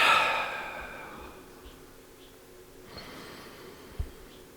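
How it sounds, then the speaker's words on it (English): A slow, steady exhale during a guided breathing exercise, a soft breathy rush that fades out over a few seconds, close and quiet with no talking over it. "Breathe out."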